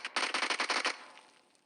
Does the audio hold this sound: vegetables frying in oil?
no